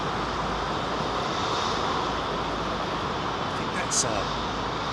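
Steady broad roar of a jet airliner's engines idling before takeoff spool-up at London Heathrow Airport, constant and fairly loud, with a person speaking briefly over it.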